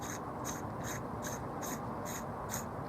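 Threaded airsoft airgun adapter being unscrewed by hand, a faint, rapid series of regular ratchet-like clicks about every third of a second over steady background noise.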